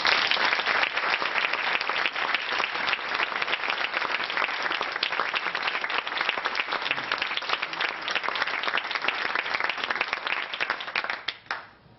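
Theatre audience at an alumni weekend performance gives sustained, dense applause, loud and continuous for about twelve seconds before fading quickly at the end, with no talking.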